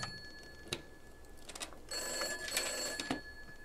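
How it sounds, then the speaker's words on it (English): An old telephone bell rings in a horror video game, sharp bursts of ringing repeating at moderate volume over a quiet, hissy background. "The phone's ringing."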